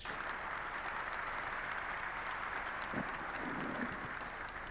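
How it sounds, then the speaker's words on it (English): An audience at the Africa Investment Forum 2024 gives warm applause for King Mohammed VI, heard as a soft, continuous wash of clapping that holds at an even level throughout. "a warm applause for His Majesty King Mohammed VI"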